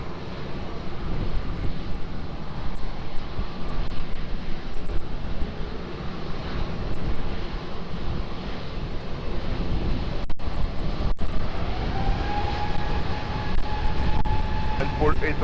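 A jet airliner roars steadily in a broad, loud rumble as it takes off from runway 20 at Lisbon Airport. Air traffic control radio voices talk over it, and a rising engine whine comes in toward the end.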